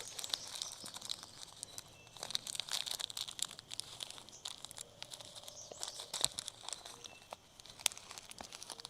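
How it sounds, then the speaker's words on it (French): Passion fruit seed pulp torn apart by hand near water, giving faint, steady crinkling and soft wet tearing with scattered small crunchy snaps, close and quiet with no talking. "Vous allez déchirer votre semence."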